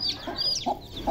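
A hen clucking to call her chicks, several close, soft repeated clucks with thin high chick peeps scattered above them.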